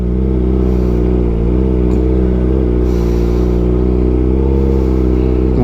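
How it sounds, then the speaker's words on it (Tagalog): A Kawasaki ZX-4RR motorcycle engine drones steadily at low revs in second gear on thick sand, loud and close, with slight pitch wobbles and faint clattering over the constant rumble. "Second gear tayo para di malakas ang makina."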